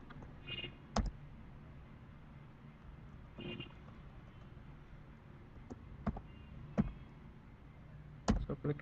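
Sharp, isolated key clicks on a computer keyboard while running a Neo4j query, a handful of separate taps spread over several seconds against a faint, quiet background hiss.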